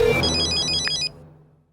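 A telephone rings at midnight, one loud electronic ring burst that stops abruptly and leaves a fading tail of room tone.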